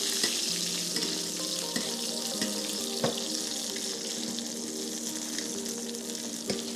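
Wagyu steak sizzling in a pan of its own rendered fat while being basted, a steady close hiss with occasional sharp spatters and faint metallic clinks.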